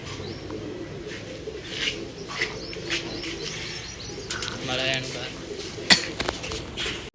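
A twenty-year-old pet pigeon coos in low, throaty repeated phrases close by, with occasional chirps and a brief flutter of wings, while a voice is heard at times in the background.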